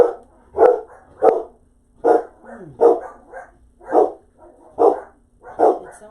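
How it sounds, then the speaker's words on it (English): Dogs barking close by during a live stream, about eight sharp barks in an uneven rhythm with short gaps between them, loud and clear with no talking. "Okay, sorry about the barking."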